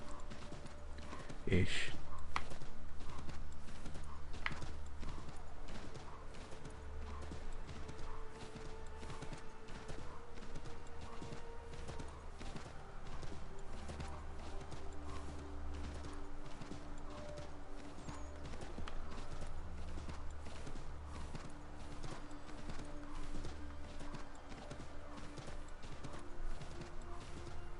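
In Assassin's Creed III, a horse's hooves clip-clop at a steady trotting rhythm throughout, with a brief whinny near the start and a voice talking over the hoofbeats.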